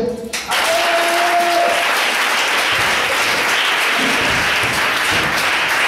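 A church congregation bursts into loud, sustained applause, many hands clapping together in a dense roar that carries on for several seconds.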